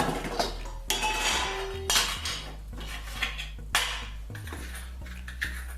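A metal spoon repeatedly clinks and knocks against a bowl while salt is added to Punjabi mint chutney, several sharp close taps with short ringing tails and brief scraping between, no talking.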